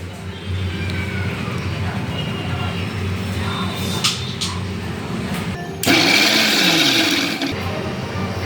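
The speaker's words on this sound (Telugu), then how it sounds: "ఎర్రకారంకి ఆనియన్స్ కట్ చేసుకున్నానండి, కొద్దిగా సాల్ట్, కొద్దిగా కారం. వీటిని గ్రైండ్ చేసుకోవాలి" A mixer grinder whirs through a batch of cut onions, salt and chili. It is a loud burst of about two seconds near the end, after a steady, lower motor hum.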